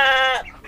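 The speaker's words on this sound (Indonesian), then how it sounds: "Nah ini kambingnya ya teman-teman ya." A goat housed in a three-storey pen, with ducks kept below, gives one short, loud, harmonic bleat that trails off quickly.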